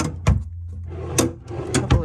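Drawers in a furnished room bump and slide with three short knocks spaced across two seconds, close by, over a low steady hum with some talking.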